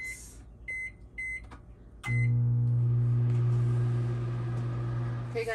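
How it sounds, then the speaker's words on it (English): A microwave oven warming a stack of tortillas: a few short electronic keypad beeps, then a loud, steady low hum as the oven runs, continuing unbroken to the end. "put it in the microwave"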